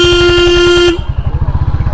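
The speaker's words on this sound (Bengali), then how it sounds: "হর্ন মারলে সরে না ভাই" A motorcycle horn gives one loud, steady honk close by over the engine's rumble, then stops and leaves the idling motorcycle engine alone.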